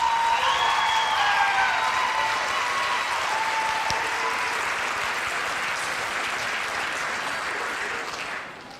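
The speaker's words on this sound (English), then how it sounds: "How about a round of applause for this senior class?" An audience applauds a high school senior class at a scholastic awards event, a broad, sustained hiss of many hands clapping in a large hall that tapers off near the end.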